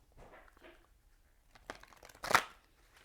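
Oracle cards are shuffled in a few soft papery riffles, ending in one sharp, louder flurry of slapping card edges near the close.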